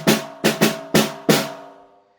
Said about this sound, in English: This is the snare drum,